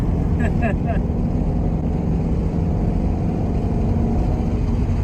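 A Porsche 356 drives along with a loud, steady low engine drone and rumble that holds an even pitch throughout, with no clear rise in revs.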